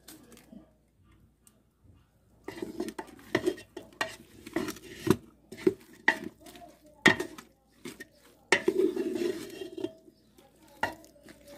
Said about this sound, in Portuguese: Agora eu vou mexer para ela incorporar com o sabor que a cebola e o alho já soltou